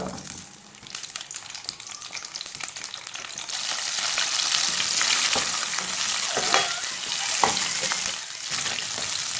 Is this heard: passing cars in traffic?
no